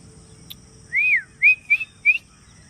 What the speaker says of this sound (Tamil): இந்த தென்னை மரத்தில் வந்து குருவி கத்துது, தெரியுதா?